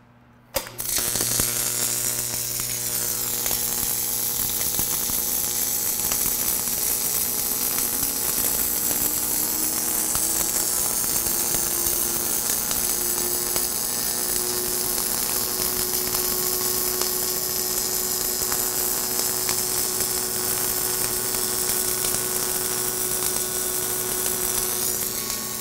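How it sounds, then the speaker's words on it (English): Submerged arc welding on a steel plate under a layer of flux, powered by a Power Wave AC/DC 1000 SD source: a loud, continuous buzzing hiss that starts abruptly and holds steady throughout. "I'm going to start welding."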